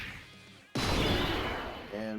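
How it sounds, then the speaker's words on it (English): Revenge Cannon attack effect from the Dokkan Battle video game: a sudden loud blast bursts in after a quieter musical stretch and roars on as a sustained energy rush, with a brief tonal chime at the end. "Go charge Revenge Cannon."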